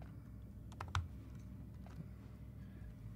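Light typing on a computer keyboard while entering a prompt for Photoshop generative fill: a short burst of sharp keystrokes near the start, then sparse faint taps over quiet room noise.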